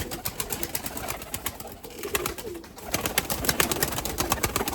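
Breeding pigeons cooing in a loft, repeated soft throaty coos from several birds close by, layered with fluttering and rustling.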